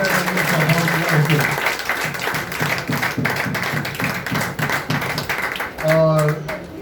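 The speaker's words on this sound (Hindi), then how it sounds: "पहले तो देखा मैम के लिए एक बार जोरदार तालियां" Audience applause at a seminar in Bihar comes as fast, uneven clapping beneath loud amplified speech, with a tonal hum or music breaking in near the start and end.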